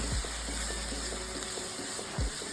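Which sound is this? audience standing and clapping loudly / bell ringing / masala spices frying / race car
masala spices frying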